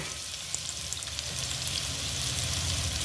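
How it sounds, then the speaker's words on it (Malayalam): Ginger, garlic, onion and green chilli sauté in a pan for a chicken curry, a continuous close sizzle with faint stirring taps. "പച്ചമുളക് ചേർത്ത് വഴറ്റി കൊടുക്കുക."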